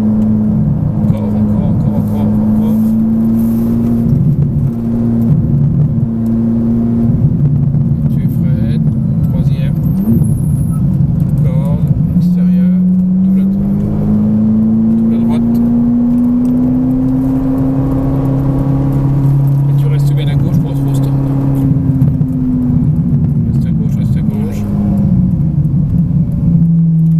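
A Ferrari driven on a track in Italy, its engine held at a steady drone that swells and shifts pitch as the driver accelerates through a corner. A person talks over it almost continuously.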